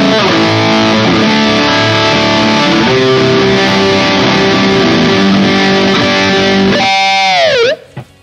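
High-gain electric guitar through a Friedman HBE amp model on a Fractal AxeFx 3, loud distorted chords ringing steadily for about seven seconds before a bending, swooping slide and an abrupt cutoff; no talking.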